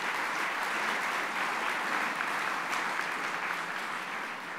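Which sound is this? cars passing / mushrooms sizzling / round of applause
round of applause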